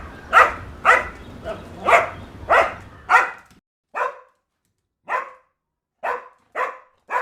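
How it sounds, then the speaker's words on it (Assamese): A dog barks in a series of about eleven sharp, loud, close barks, evenly spaced at first and then more scattered, with a low hum under the first several. "বাইহে কেলে ভুকিছ ইমান?"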